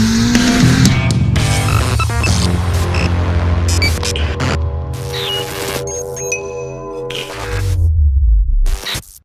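A 2007 Subaru Impreza STI Limited widebody drives gently during break-in miles. Its engine drones close and loud, with shifting pitch and scattered clicks and knocks, before fading out at the end.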